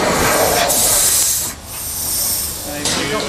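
Steam engine built into a scrapheap car, running on compressed air instead of steam, gives a loud, steady hiss of escaping air that dips briefly midway and then surges again.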